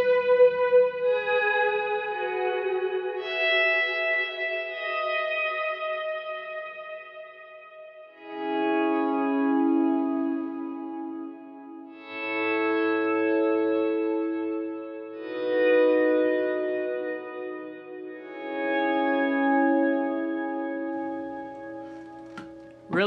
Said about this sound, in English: you have huge reverb, and it's really good for swells